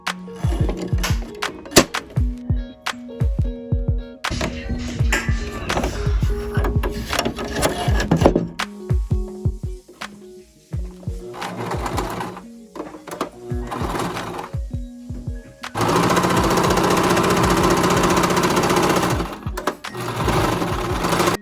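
A sewing machine stitches pieces of old denim jeans together in rapid bursts of mechanical clatter separated by pauses, with a louder continuous run of stitching near the end.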